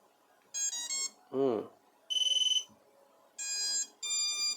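An FPV drone beeper on a receiver after soldering the motor and beeper wires, giving several loud sharp electronic beep bursts with short gaps, one rising chirp sequence among them, close and alone.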